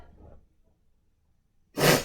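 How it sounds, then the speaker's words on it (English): A single sharp sneeze bursts out loud and close near the end, after a stretch of faint breathing and near silence. "Ugh, the sneezing!"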